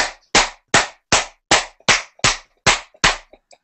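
A person imitates footballer Rio Ferdinand's sarcastic clapping at a referee with nine sharp, evenly spaced hand claps, close and loud, each one separated by brief silence.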